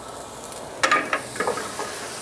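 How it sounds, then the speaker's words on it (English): Butter browning in a hot pan gives off a soft, fairly faint sizzle with a few brief crackling bursts over low steady hiss, and no talking is heard. "We're heating up a pan. Heating up a pan. Got to get it hot. Got to get that butter brown."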